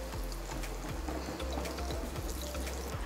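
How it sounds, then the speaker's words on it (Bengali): A rohu fish cutlet fries in oil over a medium flame, giving a faint, steady bubbling crackle with small pops scattered throughout. "হ্যাঁ, আমি এটা ভাজতে দিয়ে দিয়েছি তেলে। আমি চুলার আঁচটা মিডিয়াম করে দিয়েছি।"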